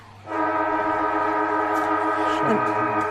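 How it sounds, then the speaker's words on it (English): A loud sustained siren blares at three-quarter time of a women's Australian football match, starting abruptly after a quiet moment and holding a steady tone before dipping slightly near the end. "a three-quarter time siren has gone"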